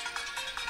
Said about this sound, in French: ça lance la sonnerie du téléphone.